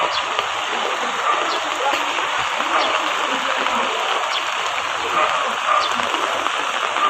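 Heavy rain from Typhoon Carina pours over a flooded area as a dense, constant hiss of downpour and splashing water, loud and unbroken.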